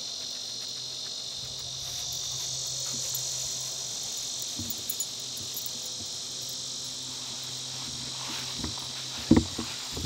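Insects chirp in a steady high-pitched drone throughout, constant and moderately near, with a few faint thumps and rustles toward the end and no talk.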